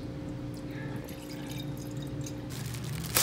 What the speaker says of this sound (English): I will be pouring myself a glass of wine.